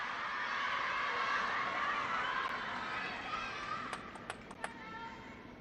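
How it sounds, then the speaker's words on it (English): Crowd murmur and chatter fills an arena during the women's singles final of a table tennis World Cup in Macao, a steady broad wash that swells early then eases, with a few sharp isolated cracks near the end. "the crowd are stirring"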